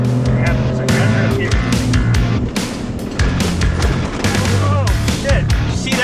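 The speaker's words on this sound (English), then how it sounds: "And the shaking is extremely violent." A Ford Raptor braking on a washboard dirt road, with a loud continuous rumble and rattling from the truck shaking violently, constant and close throughout.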